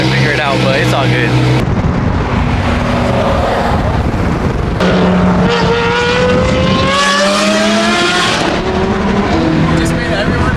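A BMW G80 M3 driving, its engine droning and rising in pitch through the gears with loud road and cabin noise, while people talk over it throughout.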